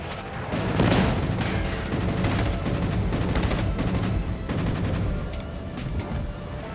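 Naval gunfire in the World of Warships video game: a booming opening blast followed by rolling, clustered shell impacts and cannon reports, steady and dense without any talking.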